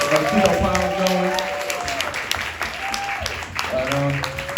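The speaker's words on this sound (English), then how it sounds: "Let's give a round of applause." An audience at a panel discussion claps in a round of applause, a dense patter that gradually thins out while voices speak over it.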